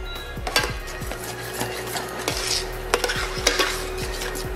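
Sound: mixing grits to melt butter

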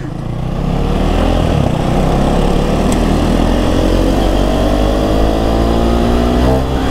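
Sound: KTM Duke 390 motorcycle full exhaust engine revving

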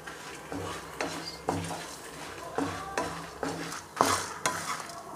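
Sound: dry red chillies and spices being roasted and stirred in a pan

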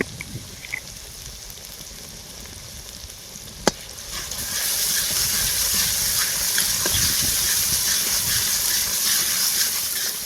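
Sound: onions frying with ginger garlic paste for prawn malai curry

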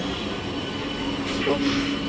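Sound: Howrah–Bardhaman local passenger train running

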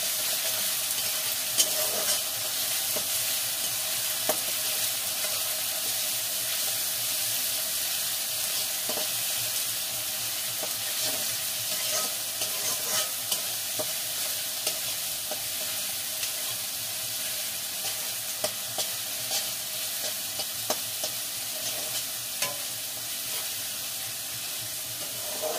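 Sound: ginger garlic paste frying with onions, stirred in pan

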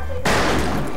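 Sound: gunshot in the video game Fistful Of Frags

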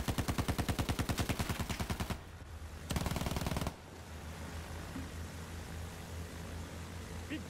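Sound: gunfire from a gunship in the video game Battlefield 1

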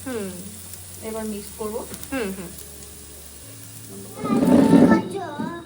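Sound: Maggi noodles frying in a pan

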